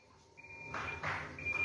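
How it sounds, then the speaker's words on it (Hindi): End-of-cycle buzzer on an 8 kg Haier automatic washing machine, heard as a steady high-pitched electronic tone that sounds twice with brief broadband bursts between, moderately quiet and close, with no one speaking. "हमारा बजर बज चुका"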